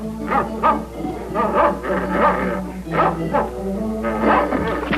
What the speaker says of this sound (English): So Bobby and the dog are having a wonderful time playing in the garage